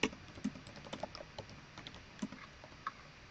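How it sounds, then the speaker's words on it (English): Keystrokes on a computer keyboard, a quiet irregular run of light clicks and taps at close range, with no voice over them. "I'm just typing this in the comments here so you have it."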